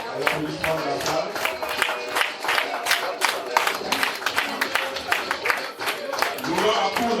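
A hall audience keeps up steady, dense applause throughout, loud and close, with a crowd murmur mixed under the clapping.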